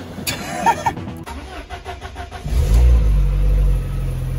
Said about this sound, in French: Alors, on va même démarrer la voiture.